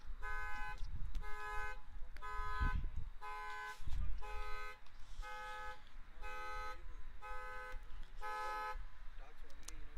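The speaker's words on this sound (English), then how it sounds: "Some car alarms just went off." Car alarms sounding in the background near a T10 cricket match, a steady repeating pattern of regular electronic tones pulsing about once a second throughout, mixed with low crowd and wind noise.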